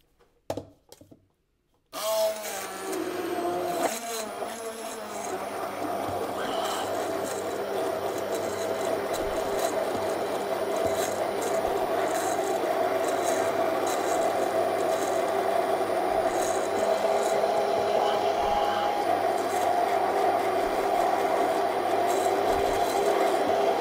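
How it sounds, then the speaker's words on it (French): A blender whirs steadily as it purees banana and eggs into pancake batter, a loud continuous motor drone that starts after a brief click and holds for about twenty seconds. "Il est temps de mixer le tout."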